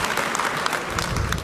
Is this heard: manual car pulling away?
no